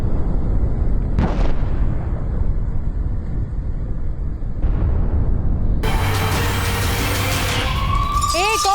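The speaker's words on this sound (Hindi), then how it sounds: "मिसाइल हमलों से दहला है इजराइल का हाइफा" Rocket and missile explosions strike the city of Haifa, Israel. Two heavy blasts boom a few seconds apart over a constant roar, then a wailing emergency siren rises and holds to the end.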